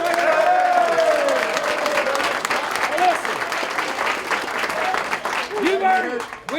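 An Arizona college football team celebrating a PAC-12 South championship in the locker room, loud close applause and whooping cheers throughout, with shouting voices mixed in.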